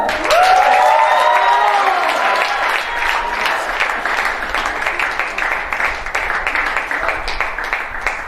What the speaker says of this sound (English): so a special clap for her